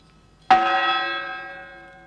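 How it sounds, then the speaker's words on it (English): A single church bell strikes once to ring in the New Year at Hogmanay, a loud, clear clang that lingers and slowly fades over about two seconds. "the bells are made ready to ring in and welcome the start of the new."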